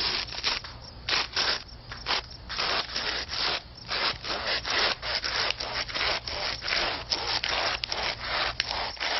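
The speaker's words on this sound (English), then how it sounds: "with this dull blade, it'll probably take me 30 minutes to cut all the way through" A dull blade cutting slowly through something, heard as repeated close rasping, sawing strokes in an uneven rhythm, loud and steady with no voices.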